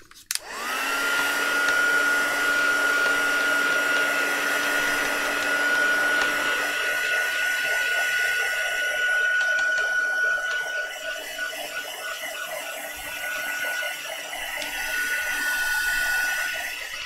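A hair dryer blows steadily and loudly up close, drying a decoupage napkin glued onto a spring-themed journal, its whine holding a constant pitch for the full stretch with no talk.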